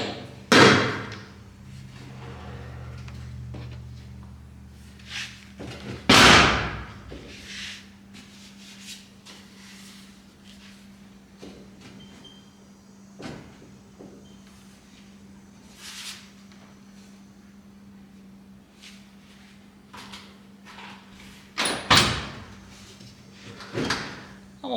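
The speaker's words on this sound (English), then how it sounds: "Let's shut this door and let's see what we're going to have to do to get this door to line up." A door being swung shut and closed to check how it lines up in its frame in a workshop, giving a loud knocking thud near the start, another sharp bang around the middle and a third near the end, with small clicks and a steady hum between.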